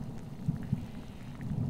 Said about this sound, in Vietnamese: Một cơn giông kéo đến, sấm sét loang loáng, rồi mưa như chút.